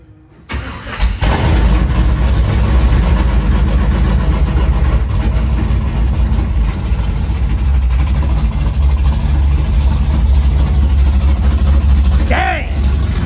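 Car engine firing up with a push-button start, catching after a brief crank and settling into a loud, deep, steady roar held close for over ten seconds, with a short squeal near the end.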